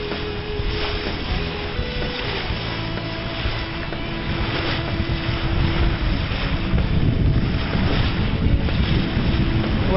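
Steady wind rushes and buffets a microphone on a sailboat under way on open water near Chicago, with a constant low rumble and faint splashing throughout.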